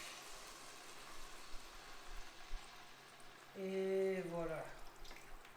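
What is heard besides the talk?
liquid added to cooking asparagus pancetta risotto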